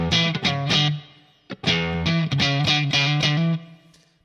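Electric guitar played through a Line 6 Pod HD500 modeling the Fender Deluxe Reverb normal channel with sag at 50%, loud driven chords struck in a rhythmic pattern with one brief pause, ending on a ringing decay.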